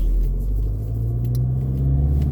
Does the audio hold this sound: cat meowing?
no